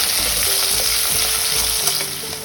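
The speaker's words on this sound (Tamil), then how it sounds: "ஆட் பண்ணிட்டு நல்லா வதக்கிட்டுக்கோங்க." Steady, loud sizzling of long-sliced onions frying in a pan for mushroom biryani, with a faint stirring scrape, continuous and close with no voices.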